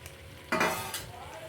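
Meat and chopped capsicum are stir-fried together in a pan while preparing a Bengali mangsho kosha curry, a burst of loud sizzling and scraping stirs rising midway through a short stretch, then easing back to a lower steady fry.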